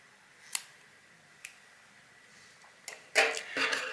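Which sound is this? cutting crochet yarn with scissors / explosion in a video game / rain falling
cutting crochet yarn with scissors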